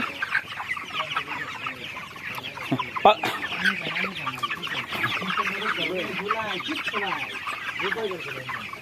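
A crowd of broiler chickens on a low-cost poultry farm keeps up continuous overlapping clucks and murmurs close by, with a sharp flap or squawk around the midpoint and voices talking faintly underneath.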